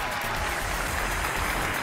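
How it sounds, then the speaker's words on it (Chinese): A television studio audience on a relationship talk show applauds to welcome a couple onto the stage, a continuous moderate clatter of many hands with music beneath it. "来，掌声有请这一对，有请。"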